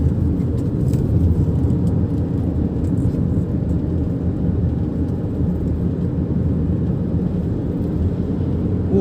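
Steady engine drone and road rumble from inside a 2.0-litre Nissan X-Trail T31 being driven out of town, a smooth low continuous hum at even loudness throughout.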